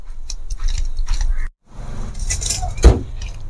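Chicken being mixed by hand with lemon juice and salt in a bowl: moist squelching and rubbing in short bursts, a brief pause, then more mixing and a single clear clink against the bowl.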